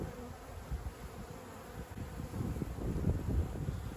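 Honey bees fill an open hive with a dense, low, continuous buzzing hum that swells slightly as they are brushed aside, close and alone without talk.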